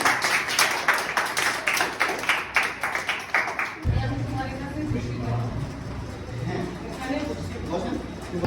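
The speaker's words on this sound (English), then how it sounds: "Clap for Sadi." An audience in a classroom claps for a student presenter, a burst of brisk, rapid claps that ends abruptly, followed by a voice speaking.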